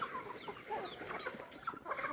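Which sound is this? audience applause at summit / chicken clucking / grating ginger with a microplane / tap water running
chicken clucking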